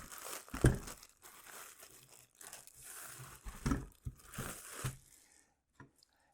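Plastic wrapping on a tripod light stand for a ring light crinkles and rustles as it is pulled off, in uneven bursts with a few louder crunches, then falls quiet near the end.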